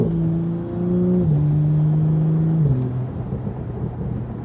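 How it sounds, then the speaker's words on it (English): An Audi S4 engine revs and settles, its low hum stepping down in pitch through a few shifts, loud and close. "Car sounding nice this morning, nice and crispy."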